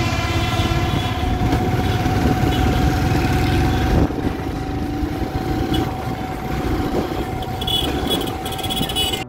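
A 2002 Hero Honda motorcycle engine runs loudly and close at a steady idle, a dense mechanical drone with a steady tone, easing slightly partway through and carrying on without any talking.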